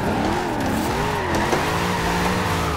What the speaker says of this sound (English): I'm drifting like crap right now